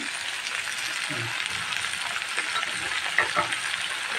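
Ridge gourd and lentils go into a hot pan with onions and sizzle steadily, a soft continuous frying hiss with brief stirring scrapes and a small clink, heard close up.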